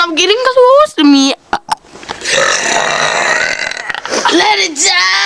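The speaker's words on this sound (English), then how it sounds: "I am the burping queen of YouTube." Loud, drawn-out burps from people competing at burping, several long croaking eructations with voices and laughter mixed in between them, close and unpolished.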